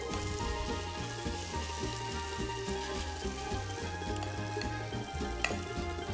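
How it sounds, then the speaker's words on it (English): Italian potato pancakes sear in a hot frying pan, giving a continuous, even sizzle that stays moderately quiet throughout, with a faint rhythmic thumping underneath. "we're gonna let them sear and seal on the pan before we move them"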